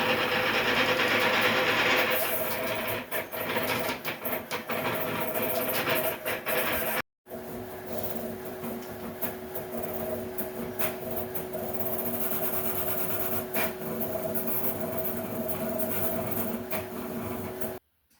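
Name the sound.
3D printer rattling from badly fitting rods and bearings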